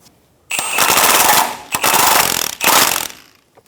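An impact tool rattles in three loud, rapid bursts while tightening axle carrier nuts on a 2014-2018 Chevrolet Silverado 1500, with short pauses between each burst.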